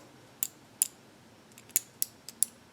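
An adjustable safety razor gives about eight sharp, dry clicks at uneven intervals, close and crisp against a quiet background.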